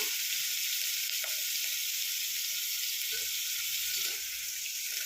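Eggplant pieces frying in oil in a pan for vangi bath, with curry leaves added, give a steady, fairly loud sizzle for the whole stretch, broken by a few soft stirring knocks and no talk.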